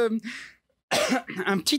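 A short cough and throat clearing, a couple of harsh bursts after a brief silence, close and fairly loud.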